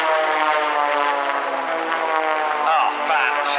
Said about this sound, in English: It is the ultimate aerobatic aeroplane.